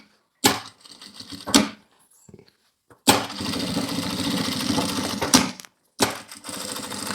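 Sewing machine running in bursts while stitching a safety seam on a multipurpose case, with two short starts followed by a longer steady run of about three seconds and a final burst, close and fairly loud.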